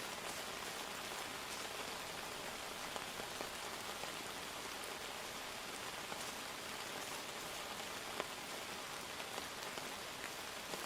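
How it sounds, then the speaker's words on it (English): Light drizzle in the survival game Outbound falls as a steady, even hiss of fine raindrops across the whole stretch, with faint scattered patter and no other noticeable sounds. "Looks like a light drizzle."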